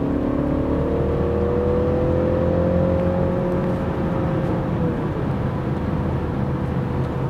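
A BMW 330e xDrive hybrid driven in sport mode, its engine hum rising in pitch then easing off under a constant road and cabin drone, heard from inside the car with no talking.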